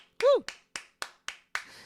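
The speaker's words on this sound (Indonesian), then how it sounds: "Yang semangat tepuk tangan yang meriah buat Tuhan Yesus." Sharp rhythmic hand claps ring out about five or six times in steady succession during a Christian morning prayer service, following a brief vocal exclamation.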